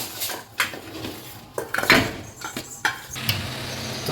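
Metal grill work from a nearby apartment rings out as scattered clanks and bangs of metal, heard at a distance through a room.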